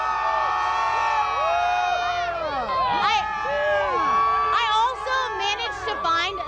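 A loud New Year's Eve party crowd in Las Vegas cheers, whoops and shouts continuously, with many overlapping high voices rising and falling close by for the whole stretch.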